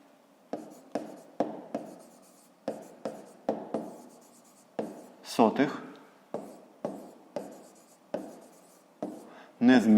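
Handwriting with a pen on paper while solving a fifth-grade math exercise, a series of short, close scratching strokes in a loose rhythm, with brief louder rustles in between.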